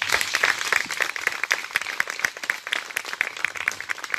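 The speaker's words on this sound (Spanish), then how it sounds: "Un aplauso para el Señor." Applause from a church congregation at a question-and-answer gathering, a dense run of many hands clapping at close to moderate range, steady throughout with no voices over it.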